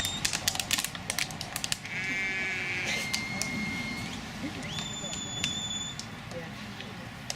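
Sheep bleat at a sheepdog trial, with a few drawn-out calls standing out over a busy outdoor field with clicks and taps. A person talks nearby.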